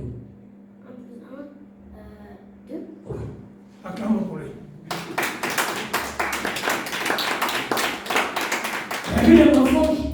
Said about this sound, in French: Acclamons pour lui.